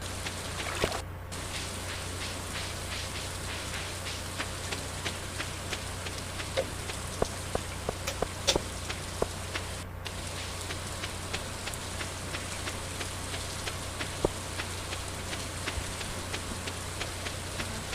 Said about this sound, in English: I love the sound of rain in this game.